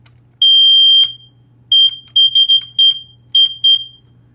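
A BRK 1839A smoke alarm under test lets out one long, piercing shriek and then a series of short, loud beeps in an uneven pattern, very close, over a faint low electrical hum.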